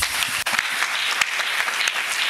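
A church congregation breaks into loud, dense applause to acclaim Jesus, a sustained wash of many hands clapping close by with no break.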